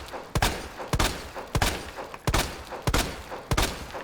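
Gunshots in the video game Resident Evil 2, six sharp, evenly spaced blasts about half a second to a second apart, each followed by a short echoing tail, with no talking.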